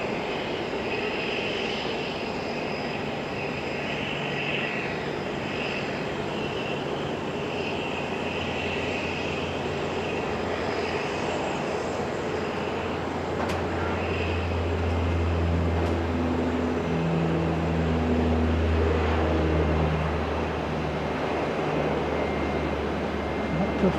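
A Dash 8 turboprop climbs out of Auckland Airport bound for Gisborne, a steady propeller and engine drone that grows somewhat louder in the latter half, heard at a distance under occasional talk.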